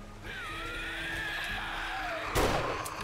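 A single gunshot fires in the video game 7 Days To Die, a sharp broadband crack near the end over a steady game background of tones and low rumble.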